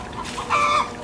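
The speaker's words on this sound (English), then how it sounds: "Chickens are up in the tree getting ready to roost for the evening." Chickens perched up in a tree before roosting for the evening give a short burst of loud clucking, with one brief rising call near the middle.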